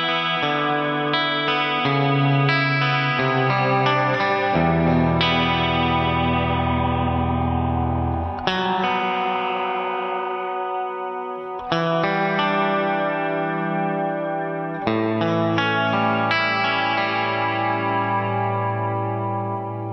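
Cusack Resound V2 reverb pedal on its modulated setting, electric guitar chords ringing into a lush, wavering wash of reverb that swells and sustains between strums, loud and continuous with no talking.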